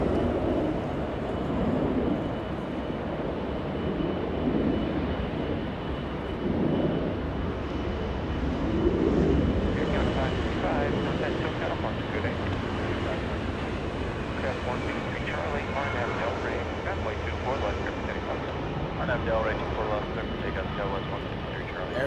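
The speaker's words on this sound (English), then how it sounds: "Air France 73, a 777-200. Making the turn that we all know and love." Air France 777-200 taxiing at Los Angeles International Airport, a moderate, steady engine rumble and hum in the distance, with someone talking over much of it.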